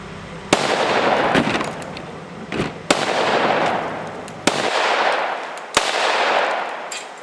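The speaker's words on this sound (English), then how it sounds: "Let's go destroy it with the Glock 20." Five sharp, loud gunshots from a Glock 20 10mm pistol fired at a frozen ham outdoors, spaced irregularly over several seconds, each crack followed by a long ringing decay.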